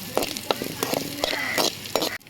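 Garlic and green chilies sautéing for carrot rice, a continuous close sizzle broken by repeated scraping strokes of a spoon against the pan and a few clinks, no voices.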